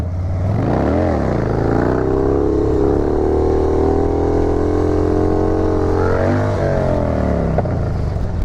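Harley-Davidson motorcycle engine revving loudly during a wheelie, a quick rev spike followed by a long sustained high-rpm roar and another rise and drop near the end, close and alone.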